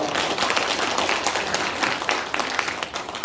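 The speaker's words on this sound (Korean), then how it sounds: "함께 퍼포먼스를 진행해주신 네 분께도 다시 한번 큰 박수 부탁드리겠습니다" Audience members at a Korean Democratic Party regional election rally applaud four performers with a steady wash of clapping that stays moderately loud and fairly distant.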